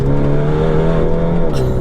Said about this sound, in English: It's got an OPF back exhaust, which just sounds absolutely brilliant